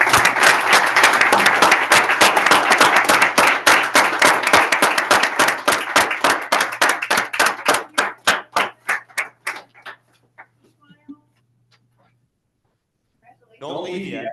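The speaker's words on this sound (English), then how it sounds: "Let's give these state champions a round of applause." A city council meeting audience gives state champion players and coaches a loud, dense round of applause that thins into scattered claps and stops, then a voice starts talking.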